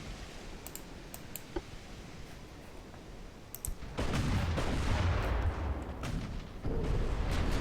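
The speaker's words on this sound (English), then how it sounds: "Alright, it looks like a torpedo hit there." A torpedo strikes a ship during a naval battle in the warship strategy game Ultimate Admiral Dreadnoughts: scattered small clicks give way to a loud, sustained rumbling blast around the hull, swelling again near the end.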